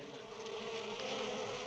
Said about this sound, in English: Listen to the buzzing of their merry little wings.